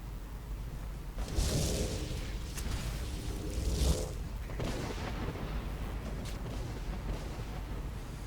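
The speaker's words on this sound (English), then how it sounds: "here comes the big summon effect again" A big summon effect in the video game Skyrim plays as a series of booming, explosive whooshes and rumbles, fairly faint, rising in a few surges over a continuous noisy background.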